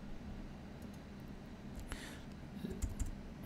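Typing on a computer keyboard to enter a value, soft faint key clicks over a steady background hum, with a brief cluster of taps near the end.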